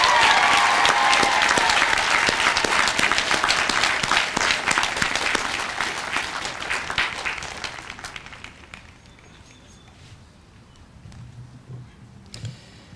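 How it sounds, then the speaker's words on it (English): Audience applause for doctoral recipients at a university sociology commencement ceremony, starting loud and sustained, then gradually thinning and fading to scattered claps near the end. "one last big round of applause for all of our doctoral recipients for this year"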